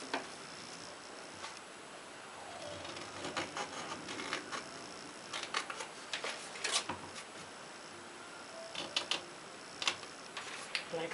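Scissors snip the marked corners off paper for handmade small envelopes, a quiet, irregular run of close, crisp clicks and crunches that grows busier toward the end.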